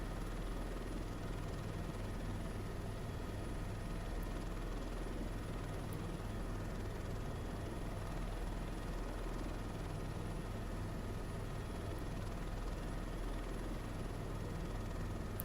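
A helicopter in flight drones steadily, a constant low rotor and engine rumble filling the whole stretch with no breaks.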